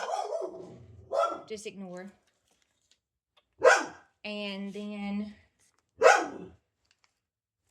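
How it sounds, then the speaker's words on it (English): A dog barks in the background while a woman chats during a paper mache craft session; a few sharp barks burst out between her spoken phrases, with quiet gaps in between. "That's my dog in the background."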